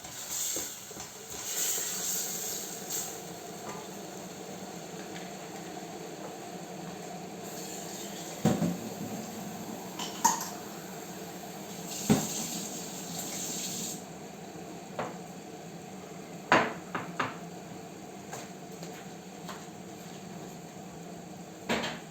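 A noisy hot water dispenser in a home kitchen hisses steadily, then gives several sharp clunks and knocks spaced irregularly across the stretch, close by and with no talking.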